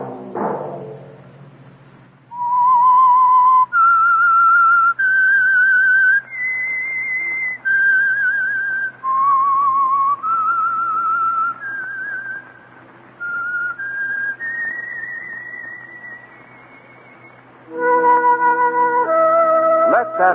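The closing theme of the 1940s radio drama The Whistler: a clear whistled melody of sustained notes rising and falling, played alone for about fifteen seconds, followed by a brief orchestral chord at the end.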